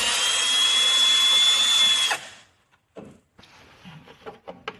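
Power screwdriver running steadily to remove screws from a computer motherboard, then cutting off and followed by a few light clicks and taps of hardware being handled nearby.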